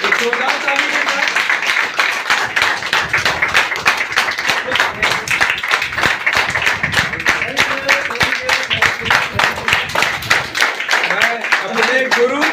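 A gathering claps loudly to welcome MB Siddiqui to the stage, a long run of rhythmic hand claps with a voice speaking over the clapping.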